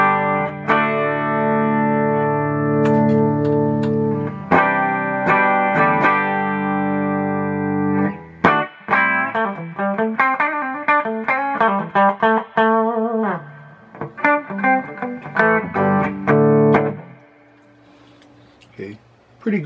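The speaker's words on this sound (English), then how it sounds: "This is what the pedal sounds like." Electric guitar played through a Badger Drive overdrive pedal at low gain gives sustained chords, then a busier run of picked notes with light grit, loud and close, fading out at the end without talk.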